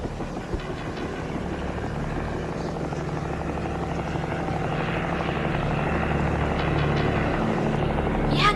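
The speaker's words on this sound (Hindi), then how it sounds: "यहाँ क्या कर रहा है आर्मी का हेलीकॉप्टर?" An army helicopter flies close by, its steady, loud rotor and engine drone filling the whole stretch and growing slightly stronger toward the end.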